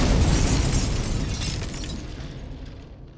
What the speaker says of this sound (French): Une explosion à proximité.